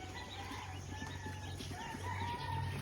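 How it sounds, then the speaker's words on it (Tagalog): Ducks calling on a small duck farm, a dense chorus of overlapping quacks and calls from many birds, fairly close and continuous, with no speech. "Mga itik ito, mga itik."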